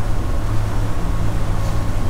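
Twin engines of a Leopard 46 power catamaran run at about 1500 RPM while cruising near 7 knots, giving a steady, loud low drone with hull and water rush, close and continuous, without talk.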